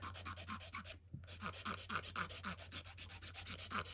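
Rapid rhythmic back-and-forth rasping of a coarse file on a dip-powder fingernail, close and steady, with one short pause midway before the strokes resume.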